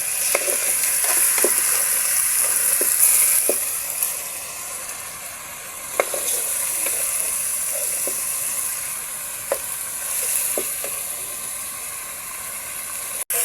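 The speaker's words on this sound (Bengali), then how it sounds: "কিছু সময় পর পর আমরা মাংসটিকে ভালোভাবে নাড়িয়ে নেব যাতে আমাদের তলানিতে লেগে না যায়" Chicken pieces fry in a pot for biryani, a continuous close sizzle with occasional scraping clicks of a spoon stirring the meat, steady and unhurried with no voices.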